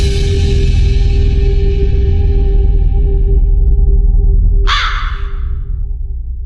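A crow caws loudly and close, a harsh drawn-out call fading over a few seconds before a sharp rasping burst cuts in near the end, with a steady low hum beneath.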